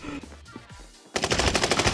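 Automatic gunfire in Call of Duty: Warzone, a loud close rapid burst of evenly spaced shots that starts abruptly after a brief quiet stretch of game sounds.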